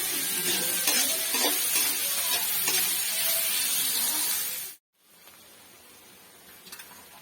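Onions with clam meat and salt sauté in a pan, a steady hissing sizzle with light stirring scrapes that cuts off abruptly partway through, leaving a quieter, duller frying hiss with a couple of soft knocks.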